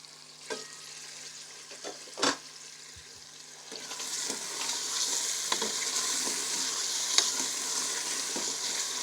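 Aloo palak sizzles steadily in a pan over a medium flame, with occasional spoon scrapes and stirring clicks over a continuous frying hiss, close and moderately loud, with no talking.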